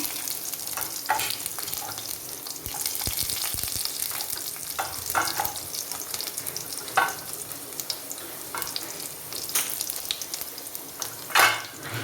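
Onions sizzle and crackle steadily in hot oil after mustard seeds have popped, with occasional stirring scrapes and clinks of a pan nearby.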